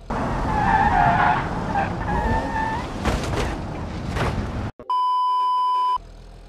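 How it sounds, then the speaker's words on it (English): A car in the driving game BeamNG.drive skids with squealing tires, then thumps into a curve in a brief impact, followed by a sudden cut and a steady electronic beep. "I hit a little bit of a curve right there"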